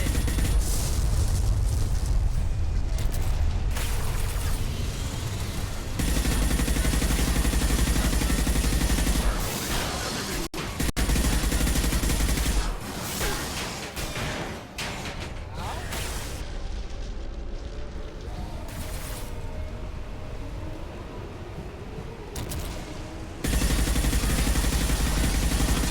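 A loud, sustained firefight in the Mass Effect game, with gunfire, blasts and rumbling impacts layered together for the whole stretch, easing off briefly in the middle. Voices speak now and then beneath the din.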